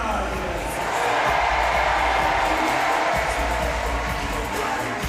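Crowd noise at a men's sitting volleyball match between Ukraine and Germany, a dense, steady roar of cheering that stays loud throughout.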